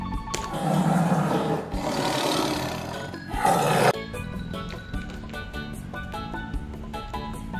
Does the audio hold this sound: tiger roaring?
yes